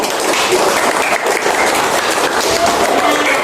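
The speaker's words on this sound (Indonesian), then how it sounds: "Beri tepuk tangan." A classroom of students claps together, a dense, even burst of applause filling the room steadily for a few seconds with no talk over it.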